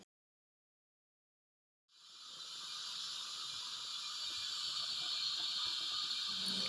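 A pressure pot boiling cow head meat starts venting steam after about two seconds of silence, a steady, close, hissing rush that holds constant and grows slightly louder to the end.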